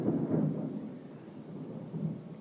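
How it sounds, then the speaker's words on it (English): Deep, loud thunder rolls and rumbles steadily through the whole stretch, with a heavier swell near the start and another around two seconds. Nobody speaks. "that was some sweet thunder"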